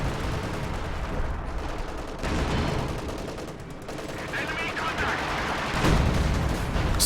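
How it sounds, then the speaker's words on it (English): Artillery and gunfire roar in a Company of Heroes 2 battle as a Priest self-propelled gun barrages a bunker, a dense, loud barrage of repeated blasts and rapid shots under talk. "Priest is just barraging away at this bunker"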